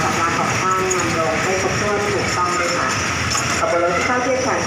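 Express train No. 102 rolls into Chum Saeng station, a loud, continuous rumble of wheels and carriages with clattering and screeching over the top, heard close by and lasting throughout.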